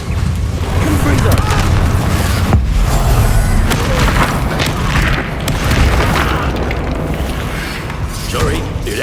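Spell-casting explosions and booms from the video game Hogwarts Legacy, a dense, loud, continuous barrage of blasts and mechanical clatter with a deep rumble running throughout, plus brief voice snippets mixed in.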